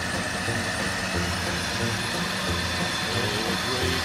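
An Atlas 9-inch metal lathe, converted to a variable-speed DC motor, runs geared down to its slowest speed without back gears, giving a steady, continuous mechanical whir and hum close by.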